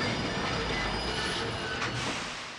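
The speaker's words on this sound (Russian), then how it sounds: "Сейчас на поезде поедем." Train rolling along rails in the James Bond 007: Blood Stone video game, a steady, dense rumble with metallic wheel noise that holds evenly throughout with no talking.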